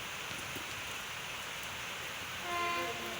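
A train approaches at Thoothukudi railway station amid steady broadband noise like rain, with a faint horn-like tone emerging near the end.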